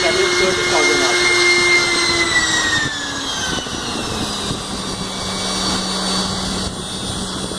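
A WT-500 rotor-stator homogenizer runs at its maximum speed of 30,000 RPM, giving a steady high-pitched motor whine with shifting tonal hums that dip slightly partway, under a person talking.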